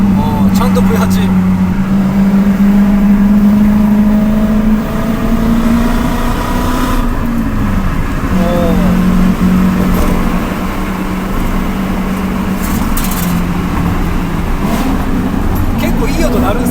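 A Lexus SC430 GT500 race car's V8 engine revs loudly inside a tunnel, a continuous deep roar that climbs and holds in pitch with echoing reverberation, while people talk over it.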